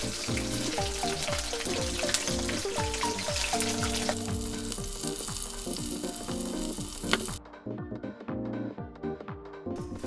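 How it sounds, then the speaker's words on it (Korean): Loud, continuous sizzling and crackling of battered shrimp deep-frying in hot oil for mayonnaise shrimp, close up, with occasional clinks and stirring. "일단은 계속 튀겨보겠습니다"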